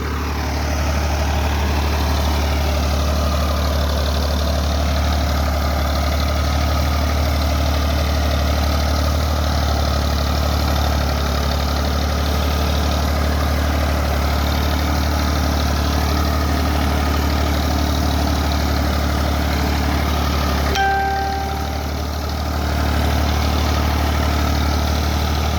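A tractor engine runs steadily on a farm in Punjab, Pakistan, a loud, close, constant low drone with an even idle, dipping briefly near the end before resuming.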